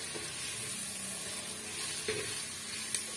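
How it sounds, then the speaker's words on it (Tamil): Onions sauté in a pan with a soft, continuous sizzle and hiss, broken by occasional light stirring scrapes and a clink or two. "நல்லா வந்து வதக்கி விட்டுடலாங்க வெங்காயம் நல்லா வந்து வதங்கி வரட்டும்"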